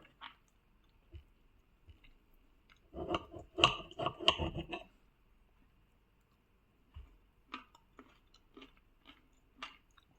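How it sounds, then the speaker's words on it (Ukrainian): Close-up crunchy chewing of beetroot comes in a dense burst of crisp bites and squishes, then scattered softer chews over a quiet background. "Бурячок класно хрумтить"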